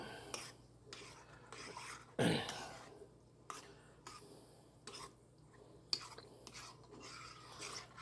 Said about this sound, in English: Take our buttery spoon here. We're gonna stir that up.